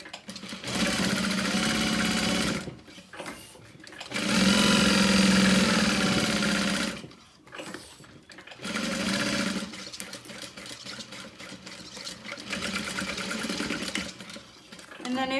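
A sewing machine basts fabric layers together in several bursts of steady mechanical whirring, separated by short pauses, up close and fairly loud.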